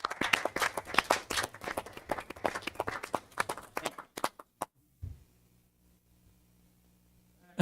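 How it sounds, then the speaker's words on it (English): A small audience at a school district board meeting gives a brief round of applause for the assistant coaches, the clapping close and uneven for about four seconds before it fades to scattered claps and quiet room noise. "the assistant coaches, they need a round of applause"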